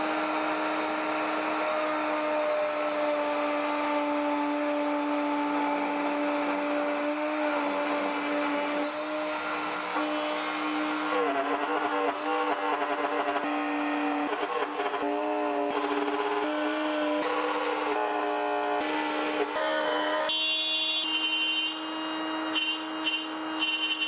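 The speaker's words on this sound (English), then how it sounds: "to do that I'm going to use the router table with this spinny angry bit here" A router table with a spinning bit cuts slots into a mahogany fence, giving a loud, sustained high-pitched whine that shifts in tone as the wood is fed through, without talking.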